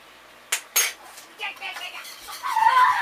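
A spoon clinks twice against a pan of homemade Alfredo sauce, followed by softer scraping and stirring noises that grow busier toward the end.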